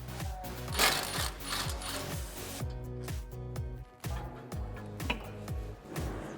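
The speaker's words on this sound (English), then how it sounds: "we need to take the brake caliper off of the rotor, and that is going to require a 12mm socket" A ratchet with a 12mm socket works loose the brake caliper bolts on a 2005-2014 Ford Mustang, a rapid, steady run of metallic clicks repeating close up for several seconds.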